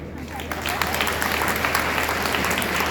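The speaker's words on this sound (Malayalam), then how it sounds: "ഇപ്പോ കൈയടിക്കാൻ കേട്ടോ." An audience applauding at a religious stage event during a Narayaneeya festival, a dense steady clapping from many hands that fills the whole moment, with voices mixed in underneath.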